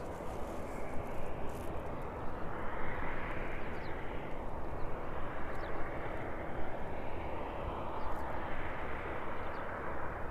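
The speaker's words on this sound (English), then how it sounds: "So they're getting ready to push their aircraft back." A Boeing 767 is pushed back at an airport in the morning, with a steady loud engine and ground-equipment roar that rises and falls gently over about ten seconds; no talking.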